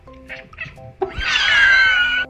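A pet cat trained to 'laugh' lets out a loud, drawn-out meow after a few soft chirps and background sounds, close and clear, with no talking over it.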